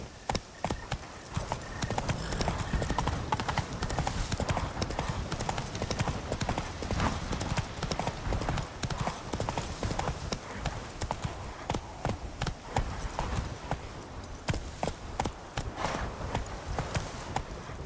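Roach, Geralt's horse in The Witcher 3: Wild Hunt Blood & Wine, gallops hard, and dense rapid hoofbeats pound on without a break for the whole stretch, close and loud.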